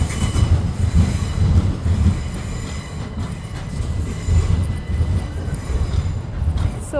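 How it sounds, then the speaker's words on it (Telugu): A train rolls past close by at a London station exit, a loud steady rumble of wheels on rail with faint squeals and rhythmic clatter, lasting throughout without talk. "మా పక్కనే ఒక ట్రైన్ క్రాస్ అవుతుంది చూసారా."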